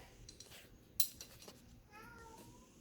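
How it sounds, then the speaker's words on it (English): A cat meows once, short and fairly faint, in a workshop where a 1985 MTD snowblower is being repaired; there are light clinks of metal parts and handling noises around it, and a harmonic chirp follows near the end. "Oh, the kitty!"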